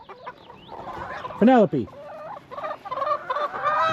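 A hen named Penelope on a homestead clucks and squawks continuously with a loud, harsh squawk midway, fairly close, while a person briefly speaks.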